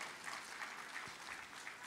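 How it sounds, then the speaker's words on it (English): Sustained applause from an audience at a women's health and wellness event, a dense steady patter of many hands clapping at moderate volume throughout, with no speech over it. "Please give yourself a hand of applause"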